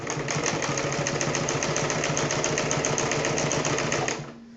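Sewing machine stitching back and forth across a dress strap, a loud close steady whirring buzz with a fast rhythmic needle clatter that runs continuously, then winds down and stops near the end.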